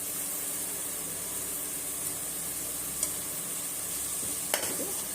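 Ginger garlic paste spooned into hot oil for Muslim-style chicken biryani gives a steady, close sizzling hiss with a faint clink or two from a utensil, and no voices.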